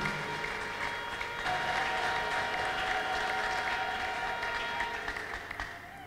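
Sustained applause from a church congregation, clapping for God during a worship service led by a prophet, steady and dense throughout, loud and fairly near, tapering slightly at the end.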